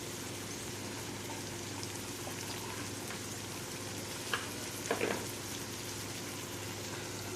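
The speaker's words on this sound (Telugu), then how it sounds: "వావ్, చూడండి ఆయిల్ పైనకి వచ్చేసి ఎంత బాగా కుక్ అవుతున్నాయి కదా" Capsicum curry cooks in oil in a pan with a continuous soft sizzle and bubbling, plus a couple of brief clinks near the end, and no voices.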